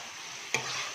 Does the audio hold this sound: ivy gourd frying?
yes